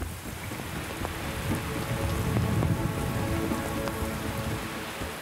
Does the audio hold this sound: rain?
yes